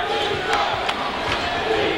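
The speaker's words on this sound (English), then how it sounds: "Crowd welcomes him to the bench." A college basketball arena crowd cheers and roars as a player heads back to the bench, a dense, sustained wash of voices with sharp whoops and a few crisp claps.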